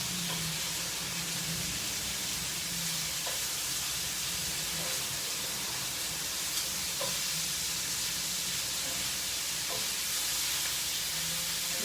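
Onions fry in a pan with a steady, continuous sizzle and hiss, faint and unbroken throughout, with occasional small clicks over the frying.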